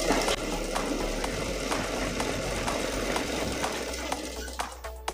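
A sewing machine stitches a double katori blouse with a steady, fast mechanical whir and a regular ticking rhythm. It runs continuously and close up for several seconds, with no talk.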